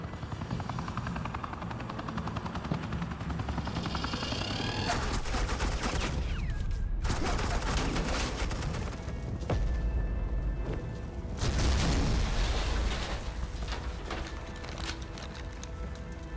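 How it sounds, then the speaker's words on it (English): Suppressing gunfire in a video game, sustained rapid bursts under the steady roar of a nearby helicopter, with a few louder surges of shooting. "This is Agent Quinn, suppressing fire."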